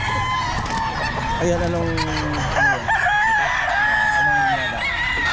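Kelso sweater gamefowl rooster crowing at a busy pet market, a loud close crow with rising and falling tones, mixed with clucking, other birds and people talking nearby.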